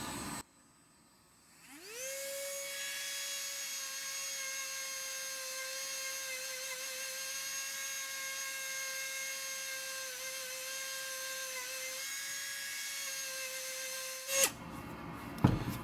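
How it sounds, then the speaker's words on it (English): A Dremel rotary tool cleans matrix out of the cracks in a garnet piece. A steady, shrill high-pitched whine spins up after a short pause and holds for about twelve seconds, then cuts off with a few knocks. "It does take a while to get the material out with the Dremel."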